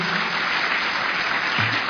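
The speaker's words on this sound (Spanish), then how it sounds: "ahora lo despedimos, sí, con fuerte aplauso a Jorge Torelli." A seminar audience in a hall in Tandil gives steady applause to a veterinarian speaker at the end of his talk. The clapping is dense and continuous, with no voices over it.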